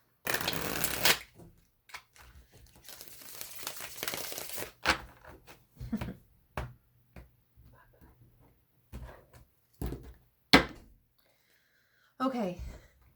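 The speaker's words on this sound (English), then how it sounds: "One more shuffle." Tarot cards being shuffled by hand in bursts of riffling and crisp card slaps, with short pauses and quieter handling sounds between, close and fairly soft, with no talking.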